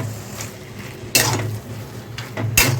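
A spoon stirs a jackfruit cutlet mixture with fried peanuts in a pan, soft scraping and sizzle punctuated by a few sharp metallic clanks of utensil against the pan, with no talking.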